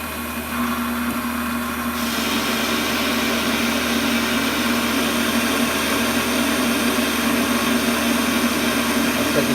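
A Warco metal lathe runs steadily while facing off the end of a part, a loud, continuous motor whine and cutting hum that rises slightly after the first half second and holds without a break.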